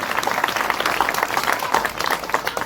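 A crowd at a women's Home Minister event in a Ganesh festival mandal claps loudly and steadily, a dense burst of applause with no break.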